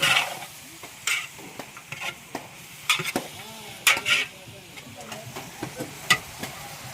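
Gourd, cucumber and tomatoes stirred in a large frying pot for a wedding meal for 400, with a spoon scraping in irregular close clanks over a soft sizzle and faint speech in the background.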